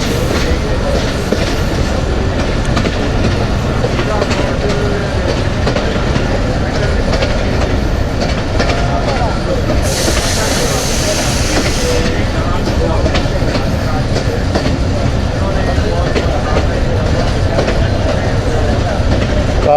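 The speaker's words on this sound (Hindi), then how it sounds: "यहाँ पे ट्रेन स्टॉप करेगी और होपफुली यहाँ हमारी क्रॉसिंग होगी 13 अप अवाम" Passenger train rolling into Jahangira railway station in Pakistan, a loud continuous rumble with steady clickety-clack of wheels on rails throughout, plus a brief brighter hiss midway.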